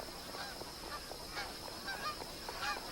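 Geese honk repeatedly at a billabong in crocodile country, a scattered series of short calls at moderate distance over faint outdoor background noise.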